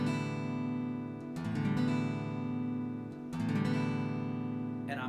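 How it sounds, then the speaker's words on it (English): Gentle strums on an acoustic guitar ring out, each chord sustaining before the next soft downward stroke; close and unaccompanied. "So I'm going to strum downward like this."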